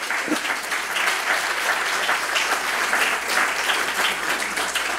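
Continuous applause from an audience at a book interview event, a thick even wash of clapping at moderate level that carries through without pause.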